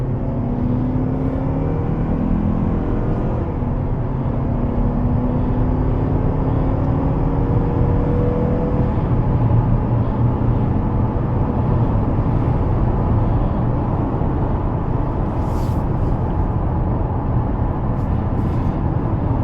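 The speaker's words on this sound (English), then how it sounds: "smooth takeoff, smooth acceleration. The 6-speed automatic shifts seamlessly" A 2025 Mazda CX-50 2.5 S Select AWD with a 6-speed automatic accelerates hard from a standstill, a steady loud engine drone rising in pitch through smooth gear changes, heard from inside the cabin.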